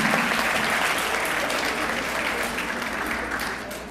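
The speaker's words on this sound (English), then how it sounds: "Let's give another round of applause to all of our administrative professionals." Sustained applause from a luncheon audience honoring university administrative professionals, dense and steady throughout and fading slightly toward the end, with no talk over it.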